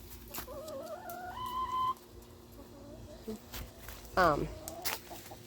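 Chickens clucking and calling in short bursts nearby, with a brief louder squawk near the end and a voice talking in the background.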